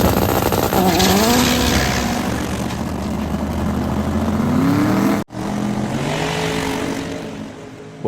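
A twin-turbo drag car thunders down the strip at Santa Pod Raceway, its loud engine roaring continuously with rising and falling pitch, broken by one brief dropout near the end, with no talk over it.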